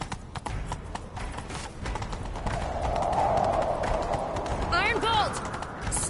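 A horse gallops in The Witcher video game, hoofbeats drumming steadily at close range under a busy game soundscape, with a brief whinny near the end.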